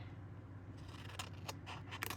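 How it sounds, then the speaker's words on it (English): Paper ephemera is cut with scissors for a craft project, with several quiet, crisp snips arriving in quick succession toward the end over a faint background hum. "My other scissors. I want a nice smooth cut."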